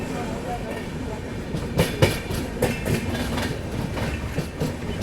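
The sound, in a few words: Dhauli Express train running on rails, WCM3 locomotive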